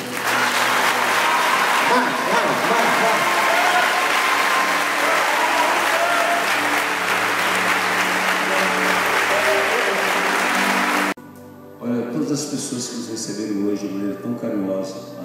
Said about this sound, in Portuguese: começa a aplaudir Jesus